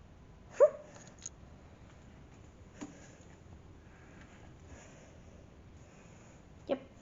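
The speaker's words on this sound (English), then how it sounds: "Yep, that's a dog." A pet dog at home gives a few brief, spaced-out yelps and whimpers, moderately close, against a quiet indoor background with no talking.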